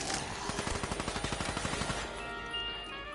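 Submachine gun fire in Black Ops 3 Zombies rattles out as one rapid, evenly spaced automatic burst of about two seconds, close and punchy, then gives way to softer game ambience.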